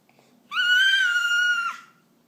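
A toddler lets out one loud, sustained, high-pitched scream lasting about a second, close up in a quiet room.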